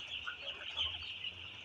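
Farm chickens cluck softly in short, scattered calls against a quiet background, fairly faint and close, with no talking.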